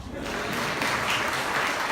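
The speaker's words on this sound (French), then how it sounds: "On applaudit le DJ, s'il vous plaît" An audience applauds the DJ at a French-language testimony event, a dense steady wash of clapping that holds evenly from start to finish with faint voices mixed in.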